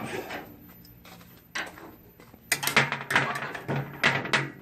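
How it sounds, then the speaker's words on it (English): A hot smoker's door swings open while pork butt cooks over the fire, giving a few sharp metallic clanks and scrapes, close and fairly loud, after a quieter stretch of faint handling noise. "So we'll open our door back up."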